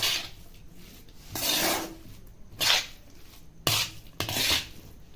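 A spoon scrapes and rubs through cauliflower and coriander leaves in a pot, producing several rasping strokes at an irregular pace, close by and with no voices.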